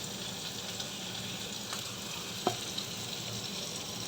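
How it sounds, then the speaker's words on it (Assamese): Tomatoes frying with spices in a pan while being cooked down to a paste, an even, fairly soft sizzle throughout with a couple of brief stirring clicks, no voices. "আমি এইখিনি ভালকৈ ভাজিম"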